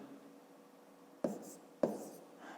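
A pen writing a number on paper while working a fifth-grade equation: two short, sharp scratching strokes stand out near, over a quiet background hum with no talk.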